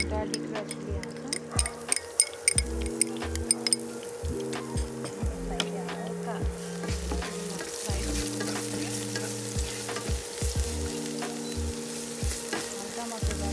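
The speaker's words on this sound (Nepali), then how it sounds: "त्यसपछि चाहिँ हामी गार्लिक र चिली हाल्छौँ।" Garlic and chili stir-fry in a pan for chicken Thai basil. A steady sizzle comes with clinks and scrapes of a utensil stirring, and a person talks over the cooking.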